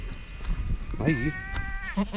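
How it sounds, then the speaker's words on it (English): Goats in a farm pen give a few short, wavering bleats close by, with quiet rustling between calls. "Lots and lots and lots of goats,"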